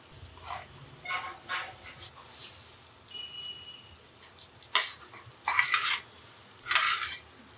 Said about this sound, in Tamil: இதை நல்லா கலந்துடலாம்.